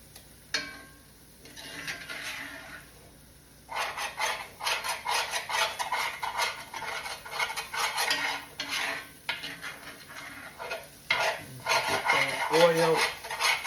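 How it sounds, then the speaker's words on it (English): A utensil scrapes and swirls steadily around a pan as flour is stirred into hot oil and gravy mixture, a close, rhythmic rubbing and clinking that pauses briefly before resuming. "we're gonna blend this flour in with the gravy mixture."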